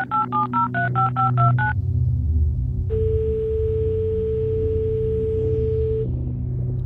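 A telephone keypad at a public phone booth dials a quick run of about ten tones, followed by a long steady ringing or line tone over a low background hum.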